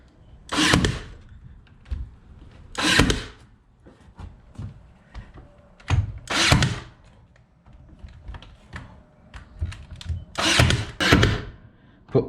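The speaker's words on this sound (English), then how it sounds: "So I'm going to staple over here." Several sharp, loud staple gun shots drive galvanized 1¼ inch staples into knotty pine planks inside a playhouse, spaced a few seconds apart with quieter handling noise between.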